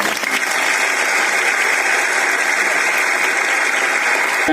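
Loud, dense applause from a large audience welcoming a guest at an inauguration and felicitation ceremony, a continuous wash of clapping at a constant level throughout.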